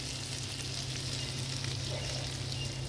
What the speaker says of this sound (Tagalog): Yan, gisa-gisa na lang